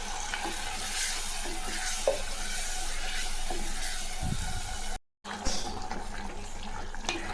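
Onion and tomato masala sizzles with stirring and a splash of water poured in, a brief pause, then the frying hiss continues with spoon scrapes.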